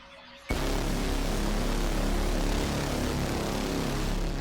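In the game Sprocket, the engine of an L-6H interwar tank kicks in abruptly and holds a loud, steady, rough roar as it revs, with no voices over it.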